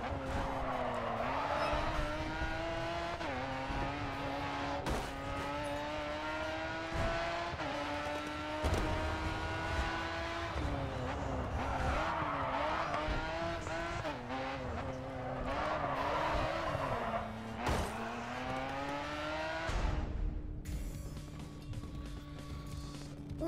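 A McLaren F1 GT drifting in the Grid 2 racing game: a high-revving engine whines and shifts while tires squeal and skid in long stretches, with sharp thumps of impacts and a sudden drop near the end.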